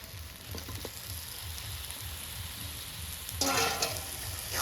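Potatoes and spices frying in a pan as congealed coconut oil goes in, a steady low sizzle with soft stirring scrapes that swells into a louder, brighter hiss near the end.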